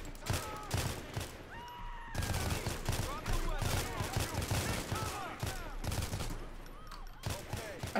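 Repeated gunfire rattles through a police shootout in the LCPDFR mod of a GTA-style game, with bursts of shots crowding dense background noise and brief spoken remarks.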